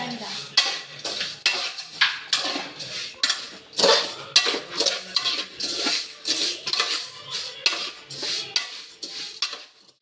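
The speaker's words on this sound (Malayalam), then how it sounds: "സേമിയ വറുത്ത് മാറ്റി വെക്കും. മൂപ്പിക്കെടുക്കുക." Vermicelli roasting in a pan, stirred with a metal spoon that scrapes and clinks in a brisk, regular rhythm of strokes, close and clear, with only a faint sizzle underneath.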